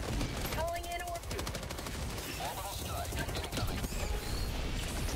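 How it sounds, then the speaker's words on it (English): Shotgun fire in the video game Helldivers 2, a dense run of rapid crackling shots and impacts over busy battle noise throughout, with sound effects layered close and loud. "Shoot the ground with your shotgun."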